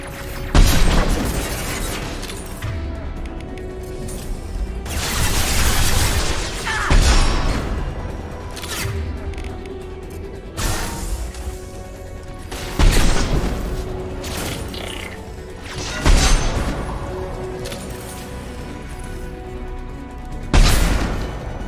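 Rockets explode in a Mass Effect 2 firefight, a series of loud, booming blasts every few seconds over a dense, continuous layer of game combat noise and music.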